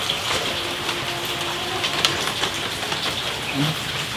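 Steady rain falls outdoors as a broadband hiss with scattered brighter drop patters, moderately loud and continuous, with a faint low hum and a couple of brief background tones.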